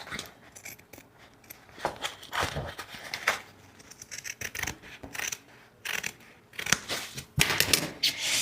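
Scissors snipping through material in a run of short, sharp cuts with brief pauses and handling rustle between them, close and fairly loud, with no voices.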